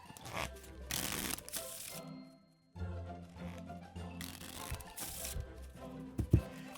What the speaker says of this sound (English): the first step is, of course, to mix the cards up